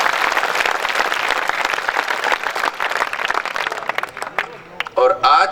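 An audience claps at a night-time kavi sammelan poetry gathering at a school, a dense sustained burst of applause that tapers off, with a voice starting to speak at the end.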